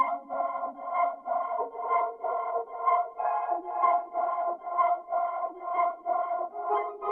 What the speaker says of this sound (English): This is literally what the preset sounds like. It's the echo ensemble keys.